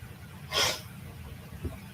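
One short, sharp sneeze bursts out over a quiet courtroom hum during a murder trial hearing, followed by a faint low thump.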